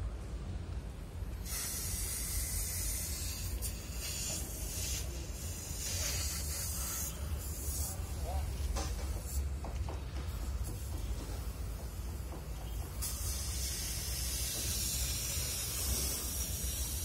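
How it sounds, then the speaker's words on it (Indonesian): A steady, loud hissing roar of a gas cutting torch cutting steel plate runs throughout, with faint scraping and crackling mixed in. "dipotong gitu pakai"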